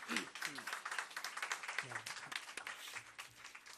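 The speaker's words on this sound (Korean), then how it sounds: "우리 하나님께 우리 한번 감사의 박수 드리시기" A church congregation claps in thanks to God, a fairly faint, dense patter of many hands with voices mixed in, fading slightly toward the end.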